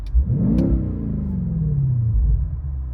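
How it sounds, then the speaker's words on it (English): A 2020 BMW X6 M Competition engine revs up sharply with the exhaust in sport mode, then the pitch slides slowly down as the exhaust rumbles loud and close, ending with a low burble. "We have our exhaust in sport, so if we rev it,"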